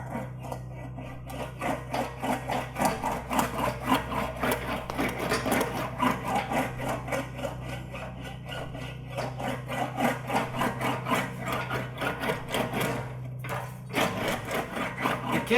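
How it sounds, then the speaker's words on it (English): A sheet-metal cab corner panel is rolled back and forth on an English wheel to smooth it, producing a continuous rhythmic rolling rumble with a low steady hum, close and sustained. "So now I think I can go over to the English wheel and smooth this out"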